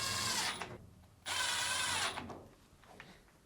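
A power drill drives Phillips screws back into a Fisher & Paykel top-load dryer, two loud close whirring bursts separated by a short pause, then quieter mechanical clicking, with no talk.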